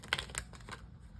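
Tarot deck from the Forager's Daughter being shuffled, a quick, close burst of soft riffling card flicks and taps that fades out within about a second.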